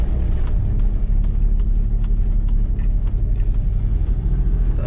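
A 1984 Pontiac Fiero wide-body car drives along at night, its engine and road rumble steady and close throughout, with no one talking.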